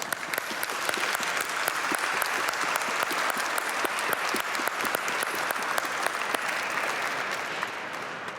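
A church congregation applauding at the end of a Mass, dense sustained clapping from many hands filling the room, steady throughout without fading.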